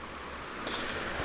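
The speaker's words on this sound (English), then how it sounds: "And this one is right near this tiny little stream." A tiny mountain stream in a forest, dammed into a small bathing pool, gives a steady, soft wash of flowing water, faint and continuous with no voices.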